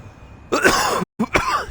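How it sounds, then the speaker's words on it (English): Two bursts of throat clearing and coughing from one person, close and loud, separated by a brief silent gap. "Coughing in your viewers' ears."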